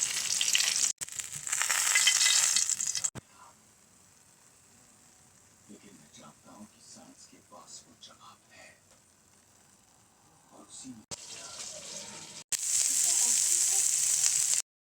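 Hilsa fish deep frying hard in a pan of oil, a loud, dense sizzle at the start and end with quieter crackling and soft kitchen sounds between, a faint voice talking in the middle stretch.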